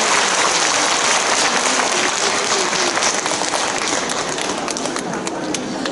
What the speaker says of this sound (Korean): 환영의 박수 한번 해주십시오